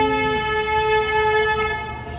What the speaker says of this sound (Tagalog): Ang busina niya parang fire truck.